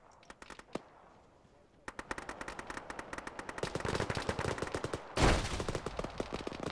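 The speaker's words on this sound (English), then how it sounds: "Frag going in." A frag grenade goes off in a military video game: one heavy, close blast lands midway through dense, rapid bursts of automatic gunfire that grow louder and busier.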